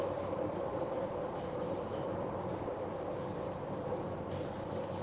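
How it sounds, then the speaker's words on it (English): A Hong Kong tram rumbles and rattles steadily along the tracks, a continuous loud clatter with no voices. "Wow, the train is so noisy."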